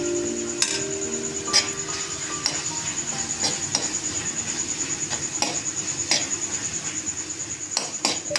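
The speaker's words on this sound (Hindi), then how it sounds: "और हम इनको टमाटर को मैश करते हुए पकाएंगे।" Tomatoes mashed with a utensil while cooking in a pan with turmeric, heard as a rhythmic series of metallic taps and scrapes against the pan over a soft continuous sizzle.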